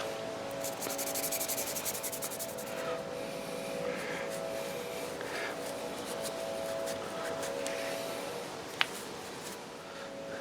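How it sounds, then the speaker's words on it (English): A motorcycle brake caliper pad pin from a 2015 Honda CBR650F is rubbed clean with brake cleaner, giving a steady close scrubbing hiss that runs without a break, with one sharp tick near the end. "the caliper pad pin, I'm going to clean that up"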